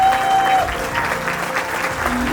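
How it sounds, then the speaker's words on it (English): Audience applauding participants in a team-building exercise, a dense, steady roar of clapping with a faint tonal hum underneath. "Give them a huge round of applause."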